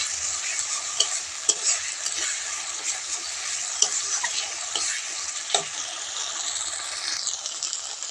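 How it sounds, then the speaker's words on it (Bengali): Spice paste with dried chili powder sautéed in a pan: a steady oil sizzle with repeated sharp clinks and scrapes of a spatula stirring at irregular intervals, close and clear with no voices. "শুকনো লঙ্কার গুঁড়োটা দিয়ে মশলাটা আমি ভালো করে কষিয়ে নেব"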